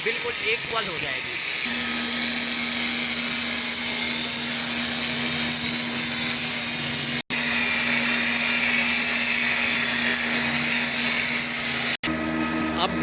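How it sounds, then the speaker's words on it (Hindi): An electric grinder smoothing a metal tailoring scale: a loud, continuous high-pitched whine with a steady droning hum, holding without a break apart from two very brief dropouts. "अब ग्राइंडर की मदद से बिल्कुल प्लेन हो चुका है"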